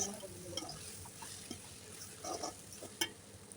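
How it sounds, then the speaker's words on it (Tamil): Okra sautéing with rock salt in a pan for tamarind curry, giving faint, soft sizzling with occasional stirring scrapes and clinks, quiet throughout and without talk. "கல்லுப்பு சேர்த்துட்டு நல்லா வதக்கி எடுத்துக்கலாம்"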